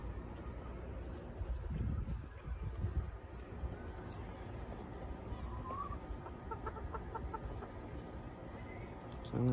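Backyard chickens, a large red rooster among hens, give soft scattered clucks and a few short calls under steady outdoor background noise, with some rustling and movement nearby.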